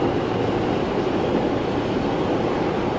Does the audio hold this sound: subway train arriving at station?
yes